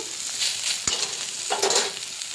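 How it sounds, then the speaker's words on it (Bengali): Fried eggplant is stirred with salt in a hot pan: a close, crackling sizzle with a few sharp scraping strokes of the spoon, heard alone with no voices. "নুন দিয়ে দিলাম। এবার একটু নাড়াচাড়া করে নেব।"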